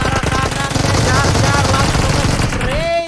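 Rapid automatic gunfire rattles loudly through a PUBG Mobile esports final match, a dense sustained burst of shots with game effects mixed in, without talk.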